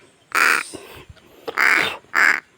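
A crow caws three times, loud and close, with short quiet gaps and faint rustling between the calls, while feeding.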